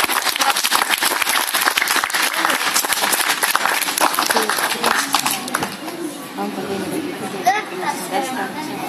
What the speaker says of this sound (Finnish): Annetaan kaikille pelaajille pienet aplodit vielä pelistä.